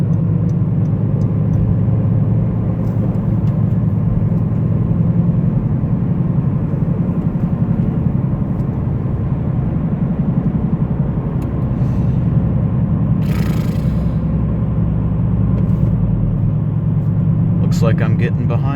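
A 2014 Honda Civic Si sedan, 9th generation, cruising in city traffic, its engine a steady low drone with road rumble heard from inside the cabin, loud and continuous, with brief higher hisses from passing traffic.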